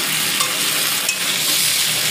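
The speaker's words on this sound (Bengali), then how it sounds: "এতে নুন একটু হলুদ দিয়েছি, দিয়ে ভাজছি।" Steady, dense sizzling of vegetables frying in a hot pan, close and continuous with no voices.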